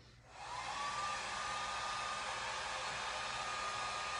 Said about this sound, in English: Sorry, we got to turn the heat gun on for a second.